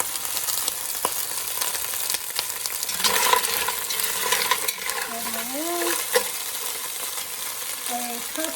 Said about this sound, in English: we're going to start with our clams and mussels. Just throw them right in.